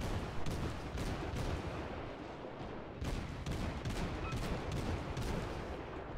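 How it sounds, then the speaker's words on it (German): Warship deck guns firing shells in World of Warships on the Kolberg cruiser: rapid, repeated loud blasts in a dense barrage over a constant rumbling backdrop, with no talk. "Ich schieße halt die ganze Zeit einzeln meine Kugeln da drauf."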